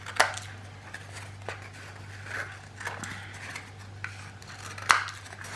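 Scissors snipping around the edge of a paper mache Easter egg craft, a few separate crisp cuts at about 0.2 s and 4.9 s over a steady low hum, close and fairly quiet.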